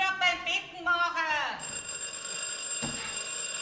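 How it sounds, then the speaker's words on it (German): An old telephone rings with a shrill, bright bell in a Bavarian stage comedy, sounding in bursts for about a second and a half and overlapping with voices, before a steady tone and room noise remain. "das Telefon läuft"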